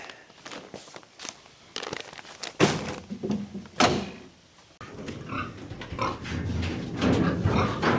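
Farm pigs being let out toward an empty feed trough grunt and snuffle close by, mixed with heavy wooden thunks from a door or gate and shuffling movement.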